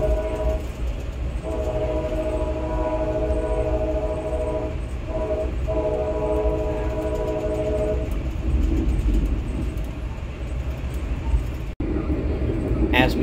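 A Loram rail grinder train passes near Birmingham, Alabama, heard from aboard a moving Amtrak train: a steady, loud rolling rumble with sustained tonal hum, continuous throughout with a brief dropout near the end.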